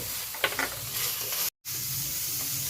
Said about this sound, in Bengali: এখন এটাকে আমি নাড়তে থাকবো ঠিক ততক্ষণ যতক্ষণ এটা একেবারে শুকনো হবে না।